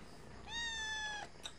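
A cat gives a single clear, drawn-out meow, fairly close and soft in level, with a faint brief chirp just after it.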